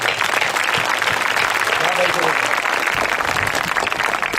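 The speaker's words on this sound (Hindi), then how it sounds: "एक बार इनके लिए आप तालियां बजा दो।" An audience applauds a poet of heroic verse at a poetry gathering, dense continuous clapping from a large crowd, steady and loud throughout with voices mixed in.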